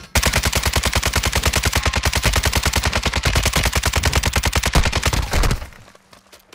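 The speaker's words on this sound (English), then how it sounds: "There's people shooting from top of this hill though." Rapid, loud automatic gunfire in Call of Duty: Modern Warfare II, a single unbroken stream of evenly spaced shots lasting several seconds before cutting off abruptly.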